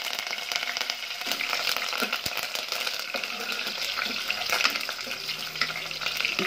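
Ginger frying alongside roasted cumin seeds in a pan, a dense steady sizzle with faint stirring and watery hiss throughout, close and even, no voice.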